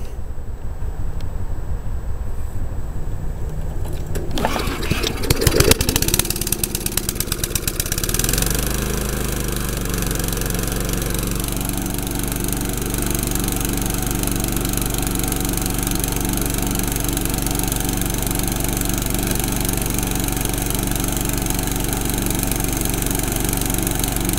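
A propane-fueled lawn mower engine sputters and catches, then settles into a steady, loud idle that drones on close by without a break.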